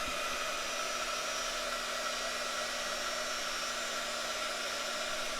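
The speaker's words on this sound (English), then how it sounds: "I'm just going to heat it now." Heat gun blowing steadily and close while it melts crayon wax on a rock, a constant loud airy roar with a faint whine running alone throughout.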